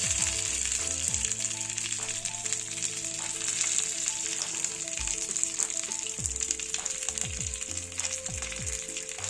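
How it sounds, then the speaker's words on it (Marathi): Sesame seeds and tempering bits sizzle in oil in an appe pan, a steady close crackling hiss with fine popping under a continuous background hum, no voices. "गॅसवर आपे पात्र ठेवायचं आणि त्याच्यात असे तीळ आणि हे थोडे थोडे टाकून"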